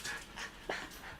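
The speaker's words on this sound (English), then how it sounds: "that sound that you hear, the dogs are playing" Dogs play and pant indoors, giving quick, faint rhythmic breathy pants with a brief whimpering note partway through, over a short span.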